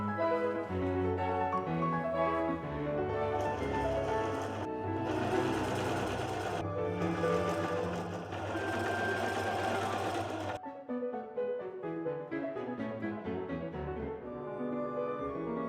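A home sewing machine runs close and loud in long continuous bursts while stitching the back pieces of a shirt together, then slows and stops near the end.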